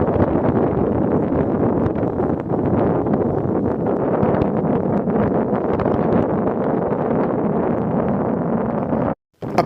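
Steady, loud wind on the causeway at Mont St Michel buffeting the microphone with a low roar and rustling, continuous throughout and cutting out briefly near the end.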